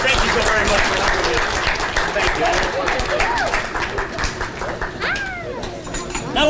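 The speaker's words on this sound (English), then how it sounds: "Ladies and gentlemen, give her a round of applause." Audience at a magic show in a Barnes and Noble bookstore clapping steadily after a volunteer's card trick, lively applause with whoops mixed in.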